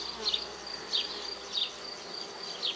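A honeybee swarm buzzing steadily, with a dense drone and louder bees passing near in regular swells, and no talk.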